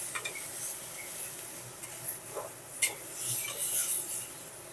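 Moong dal with salt and turmeric stirred in a pan, soft scraping and rubbing strokes over a faint sizzle, fairly quiet and close.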